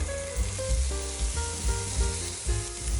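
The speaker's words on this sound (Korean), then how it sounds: "그리메스처럼 노릇하게 구워줍시다" Diced potatoes and pork belly sizzle steadily in a hot frying pan, with a constant crackling hiss and occasional scraping and stirring.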